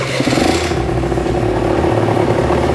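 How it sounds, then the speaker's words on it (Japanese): A restored Aprilia Classic 50 motorcycle engine runs loud and close, with a steady low throb and a slight shift in tone early on, as if settling from start-up into idle. "エンジンスタート。"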